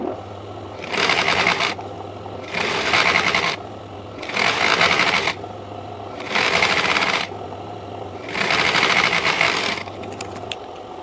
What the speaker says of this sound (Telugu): దీన్ని ఇప్పుడు మనము ఇలా ఫస్ట్ ఇలా రెండు జాయింటింగ్ చేసుకొని కుట్టుకోవాలి